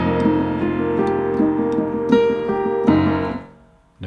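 Two-handed piano finger exercise, a steady left-hand pattern under repeating right-hand notes, played close and moderately loud with sustained ringing tones and a brief pause near the end, no talking.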